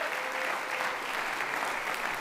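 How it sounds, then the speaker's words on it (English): An audience at a college athletics awards event applauds, giving a continuous, even roar of many hands clapping that sounds a little distant, with no talk over it. "So a round of applause to you guys for that as well."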